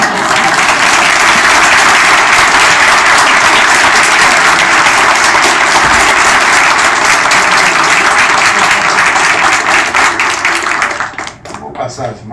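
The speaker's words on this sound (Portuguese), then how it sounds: "obrigado pelas palmas" A seminar audience marking thirty years of the Republic's Constitution gives loud, sustained applause, a dense wall of clapping that holds steady before thinning out and dying away near the end.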